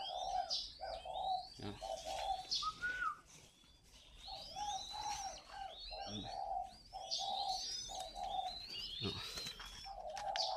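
Young spotted doves, ringed before joining a flock, coo in steady repeated phrases close by, while other small birds chirp and twitter throughout.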